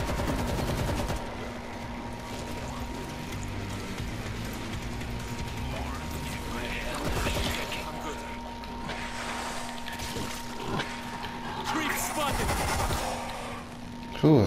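Gunfire in the zombie shooter game World War Z, with rapid bursts and scattered shots at moderate level under continuous mechanical drone and occasional talk.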